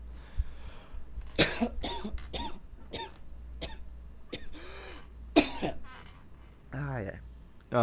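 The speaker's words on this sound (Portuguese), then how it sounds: "Tive que tossir um pouco." Several sharp, close coughs break out in short bursts, spread across a few seconds, with a throat-clearing rasp and brief vocal sounds between them.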